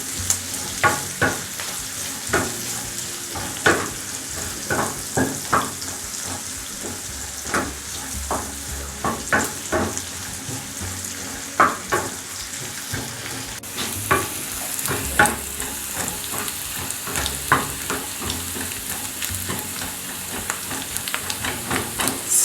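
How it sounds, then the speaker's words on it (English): Onions frying in a pan with a spatula stirring, a continuous sizzle broken by frequent scraping strokes in an irregular rhythm, close and fairly loud, no voices. "we'll just stir a bit until the onions are a bit brown"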